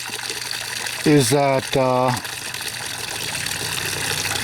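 Water from a mineral separator's pump runs in a steady, even rush throughout, while someone speaks briefly over the flow.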